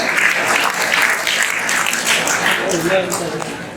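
An audience at a Hindi poetry gathering claps loudly and continuously, a thick wash of applause with faint voices beneath it.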